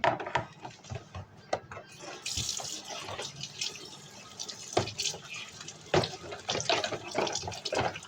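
Running tap water pours into a sink while dishes are washed, a steady splashing stream broken by clinks and knocks of crockery, close and fairly quiet with no talk.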